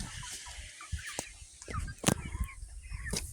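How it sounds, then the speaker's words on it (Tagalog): Free-range chickens on a farm cluck and murmur outdoors, with scattered short calls and a rustling background, no one speaking. "Meron pala ditong manok gala"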